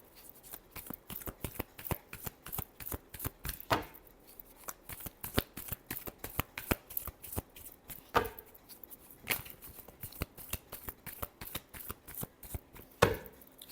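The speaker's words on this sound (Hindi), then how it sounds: "Last shuffle." Tarot cards shuffled by hand, a close series of crisp riffling slaps and flicks in an uneven rhythm, with a few sharper snaps standing out, no speech.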